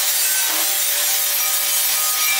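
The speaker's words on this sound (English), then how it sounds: "it's not fun cutting through 3/8-inch thick steel with an angle grinder" An angle grinder cuts through 3/8-inch thick steel during a Texas-style smoker build, making a loud, unbroken hissing whine that stays steady from start to finish with no voices.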